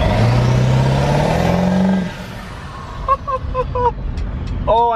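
A 7.3 diesel work truck with straight-piped exhaust roars loudly as it accelerates for about two seconds, then drops to a rumbling idle, with short voice bursts over it.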